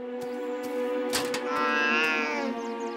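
A cartoon cat meows in a long, wavering cry over a steady musical backdrop, close and fairly loud, with brief sharp accents around it.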